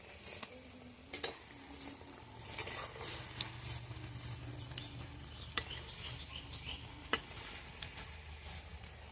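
Drumstick flower fritters fry in a pan with a continuous sizzle, while a utensil stirs and turns them in sharp, irregular scrapes and clacks close by, with no voices.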